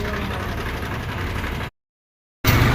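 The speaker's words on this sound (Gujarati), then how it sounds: "જંગલમાં ટ્રેક્ટર અવાજ લઈ લો" A tractor engine idles and rumbles steadily at close range, then cuts out to full silence for under a second before the running resumes just as loud.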